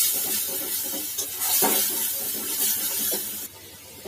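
Turmeric, chilli and cumin masala, loosened with a splash of water, sizzles steadily in a kadai while being stirred, a close, continuous hiss broken by a few sharper stirring scrapes, with no voices.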